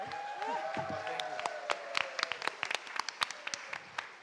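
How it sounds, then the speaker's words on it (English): Scattered hand claps from a neighborhood association meeting audience build into uneven applause, with voices talking over the start. "you can clap for the association to get the clapping out"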